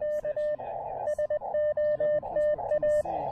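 Morse code sidetone from a ham radio operated on a mountain summit: a steady pure beeping tone keyed in short and long pulses at a brisk rhythm, fairly loud and close, with faint outdoor noise between elements.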